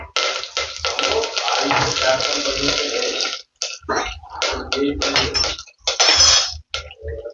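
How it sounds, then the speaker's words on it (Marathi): Mustard seeds, cumin and curry leaves sizzle and crackle in hot oil in a pan, a loud, bursting hiss that stops briefly and then flares up again. "तेल गरम झालंय आणि त्यात आता मी मोहरी टाकून घेते मोहरी टाकली की जिरं कढीपत्ता"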